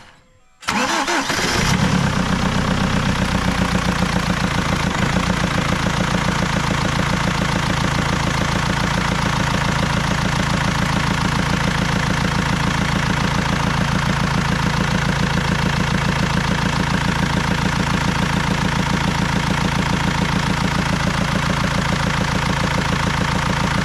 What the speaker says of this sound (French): ça devrait démarrer et tourner normalement